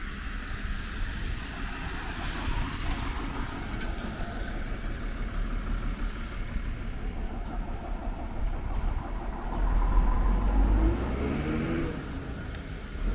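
Number 17 marshrutka minibus pulls up to a stop on Yakutskaya Street in Donetsk, its engine a steady mid-distance rumble with a low heavier surge as it arrives, set against street background.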